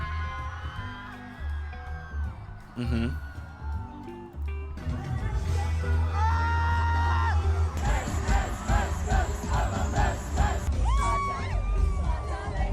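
Crowd at a Coachella performance, whooping and cheering loudly under pounding music, a big festival roar that swells through the clip, with a brief murmur of talk.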